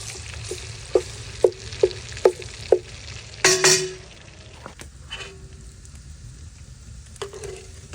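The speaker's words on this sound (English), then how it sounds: "We want to kind of fry it in that old bacon fat." Food frying in leftover bacon fat in a pot, with a row of five sharp utensil knocks against the pot, a short louder burst of sizzle, and soft crackling frying underneath, close by with no talk.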